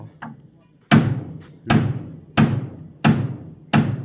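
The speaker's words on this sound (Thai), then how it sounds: "เพิ่นก็ตอกหลังคาอยู่พี่น้องเอ้ยผม" Hammer blows nailing a roof at a house kitchen build, five sharp heavy strikes spaced about every three-quarters of a second, close and loud with ringing decay between hits.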